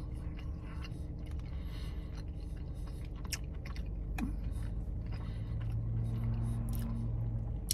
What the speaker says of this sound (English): You bite in, you get a nice crunch.